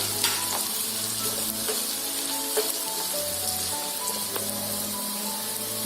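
Dried chillies and coconut fry together in a pan for a mushroom pallipalayam, a dense crackling sizzle like light rain with scattered stirring taps, close and steady, without speech.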